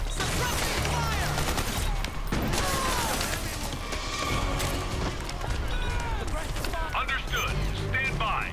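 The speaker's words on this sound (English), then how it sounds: "Suppressing fire!" Sustained suppressing gunfire from Metal Gear Solid 4 rattles on without pause, mixing rapid automatic bursts with mechanical clatter in a loud battle, and voices are heard through it.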